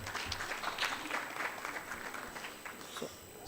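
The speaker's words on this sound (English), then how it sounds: "let's have a huge round of applause for him" A conference audience at a neurology update gives a round of applause, a steady dense patter of many hands clapping that fills the room evenly from start to finish with no voices over it.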